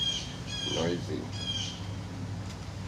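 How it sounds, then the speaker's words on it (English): Birds squawk and caw in short, harsh calls, a couple of bursts close together over a steady outdoor background. "As if the birds ain't noisy enough."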